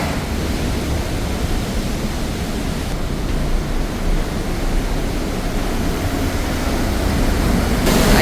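The Rhine Falls waterfall thunders in a steady, dense roar of cascading water, loud and unbroken throughout with no voices over it.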